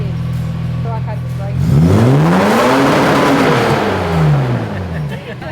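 A turbo Toyota Barra engine in an 80 Series Land Cruiser idles low, then revs hard to the limiter, holding a loud sustained peak before dropping back, close and roaring, with no talk over it.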